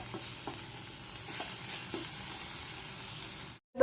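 Grated coconut cooks into naru sweets in a pan, giving a steady low sizzle with occasional soft knocks of a stirring spoon, until it cuts off abruptly at the end.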